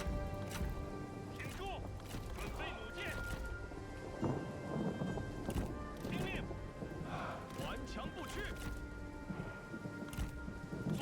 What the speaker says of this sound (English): Don't like the rain at all. It's actually really bad for us.